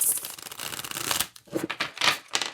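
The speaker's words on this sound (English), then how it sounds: "Let's give it one more good shuffle." A deck of tarot cards is shuffled close by, giving a dense papery riffle followed by a few shorter bursts of rustling and slapping cards.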